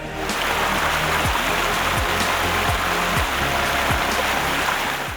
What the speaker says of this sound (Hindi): बस बहते झरने और आबशार का शोर है